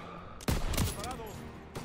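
Sharp bursts of gunfire crack out in quick succession in Call of Duty: WWII, with a voice speaking between the shots and another burst near the end.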